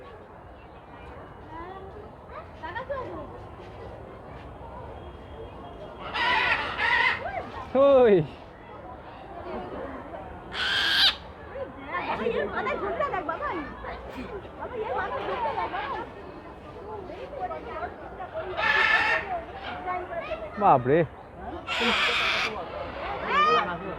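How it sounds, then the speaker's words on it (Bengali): Loud harsh screeching bursts from cockatoos and other parrots at Alipore Zoo in Kolkata cut repeatedly through a steady crowd chatter of visitors, with people talking nearby throughout. "কাকাতুয়া"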